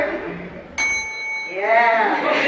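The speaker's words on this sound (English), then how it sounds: "At which point, the bell will ring, and then have to wrap it up." A bright bell rings once with a sharp strike and a long ringing decay, signalling the end of a panelist's turn at a San Diego Comic Con manga panel, with voices talking around it in the hall.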